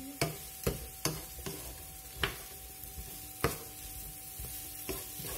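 Utensil scraping and stirring courgettes and meatballs in a frying pan, several distinct knocks against the pan at an irregular pace over a low, steady sizzle, close and fairly quiet.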